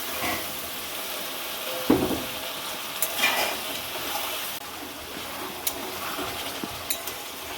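Whisked yogurt poured onto potatoes frying with spices for aloo dum, a soft steady sizzle with occasional scrapes and clinks of a spoon against the pan.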